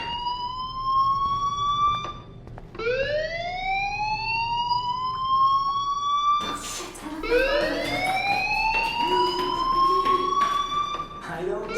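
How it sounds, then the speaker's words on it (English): A fire alarm in the video game Life is Strange wails in repeated rising siren sweeps, loud and continuous, with a brief gap before the cycles restart. "Hey, do you hear that fire alarm?"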